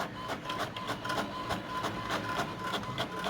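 An HP ENVY 6055 inkjet printer runs a copy job, giving steady mechanical whirring with a faint tone and a rapid train of regular clicks and ticks from the paper feed, close by and continuous with no talking.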